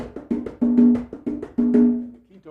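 Segundo conga part of a bembe rhythm in 6/8, a single hand drum playing short repeated open and muted strokes at close range, the phrase cycling twice with some tones ringing out.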